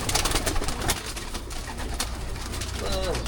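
Racing pigeons cooing among a flock, with fluttering wingbeats and scattered low calls, fairly close and continuous against a busy outdoor background.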